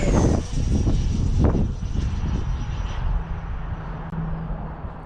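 An FMS Avanti RC model jet flies overhead on a windy day, its ducted-fan whine steady and fairly close, mixed with rushing wind buffeting across the whole stretch.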